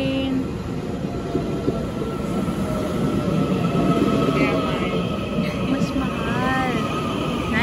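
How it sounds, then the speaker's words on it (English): A train arriving at a platform in Taiwan rumbles steadily nearby with faint squealing wheels and hiss, while people talk over the continuous rolling noise. "There's our train."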